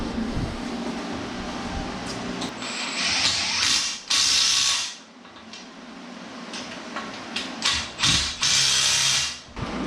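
Ratchet clicking in short bursts while a bolt on a quick-change rear end is tightened, close and fairly loud, with brief pauses between strokes.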